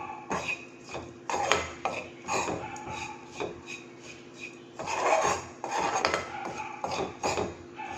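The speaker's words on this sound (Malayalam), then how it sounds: "ഇളക്കി മിക്സ് ചെയ്തിട്ട് മുളക് പൊടിൻ്റെയും മഞ്ഞൾപ്പൊടിൻ്റെയും എല്ലാം ഒരു പച്ചമണം മാറുന്ന വരെ ഇളക്കി കൊടുക്കും" Chili and turmeric powder being stirred in a pan for Kerala sambar, a series of rhythmic dry scraping and rubbing strokes of a spoon against the pan, fairly close and steady.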